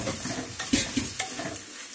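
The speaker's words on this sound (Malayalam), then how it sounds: "അതൊന്ന് നല്ല രീതിയിൽ ഒന്ന് ഒരു ജസ്റ്റ് ഒന്ന് റോസ്റ്റ് ചെയ്യുന്ന രീതിയിൽ ഒന്ന് ഇളക്കിയെടുക്കുക." Jeerakasala rice roasting in a pan for quail biryani is stirred with a utensil, giving soft sizzling under a few distinct scraping clinks against the pan, close and with no speech.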